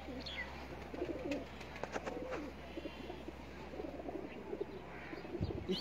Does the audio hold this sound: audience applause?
no